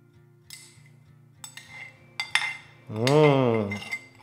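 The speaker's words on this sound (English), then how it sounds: "Now I put in a sauce bowl." Chimichurri sauce being put into a sauce bowl, heard as a few separate light clinks of utensil on dish followed by a short scraping pass, close and clear with no talk.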